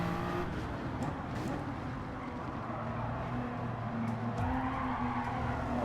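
A race car in the Gran Turismo video game skidding after being hit, heard as a constant loud engine drone with tire noise and shifting pitch, the roar continuous and close throughout.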